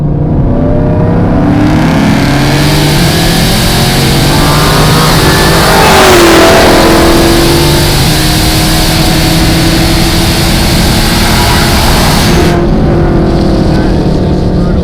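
A supercharged Dodge Demon with a Hennessey HPE1000 upgrade accelerates hard from inside the cabin. The engine roars loudly and continuously, rising in pitch through a manual shift, and a voice speaks briefly under the din.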